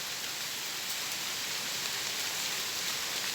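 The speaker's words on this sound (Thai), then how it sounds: "ฝนกระตกอยู่นะ ฝนก็ยังงิดอยู่" Light rain falls in the countryside as a steady, even hiss of fine drops, soft and continuous throughout with no talk.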